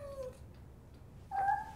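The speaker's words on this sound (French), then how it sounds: "Oh mon Dieu, c'est son chat?" A cat meowing indoors, two short tonal meows separated by a pause, the second louder and more drawn out, heard faintly over a low background hum.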